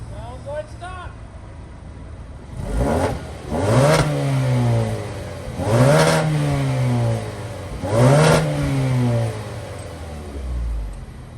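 A Mazda engine with an OEM 4th gen turbo muffler revs three times in a row. Each close, loud rise and fall of pitch is separated by a short idle gap.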